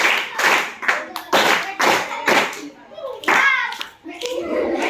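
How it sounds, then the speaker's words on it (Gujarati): Children clapping in a classroom after a maths game, bursts of hand claps mixed with kids' voices and chatter close by. "તાળી પાડો"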